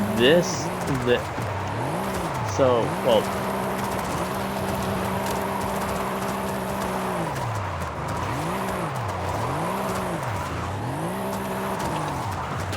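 A Mercedes-AMG GT Black Series engine in a racing video game revs up and down in repeated drifting sweeps with tire squeals, steady and close, as a voice speaks briefly.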